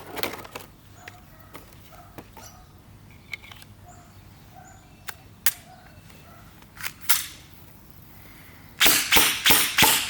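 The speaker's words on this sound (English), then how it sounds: "It fired the whole mag just fine and the slide locked back, but it looks like a few of the gels broke when fired" A 3DG Glock 17 Gen 4 V3 gel blaster, shot straight out of the box, gives scattered soft clicks and then a quick string of sharp, loud snapping shots at the end as the magazine empties.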